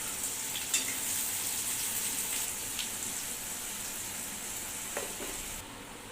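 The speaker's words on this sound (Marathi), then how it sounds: "फोडणीसाठी तेलामध्ये आपल्याला दोन ते तीन शिरून घेतलेले कांदे आणि मिरची परतवून घ्यायची आहे" Chopped onions and mild green chillies fry in hot oil for tempering, giving a continuous close sizzle with faint stirring scrapes and small crackles throughout.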